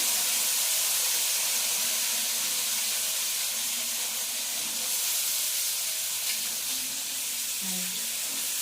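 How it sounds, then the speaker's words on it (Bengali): Potatoes and okra sizzling in hot oil in a pan, a steady, bright frying hiss that continues evenly throughout with a few faint pops. "আলু ভেন্ডি দিয়ে দিলাম সব তেলের মধ্যে।"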